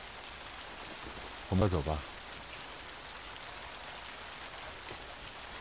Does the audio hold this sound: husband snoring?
no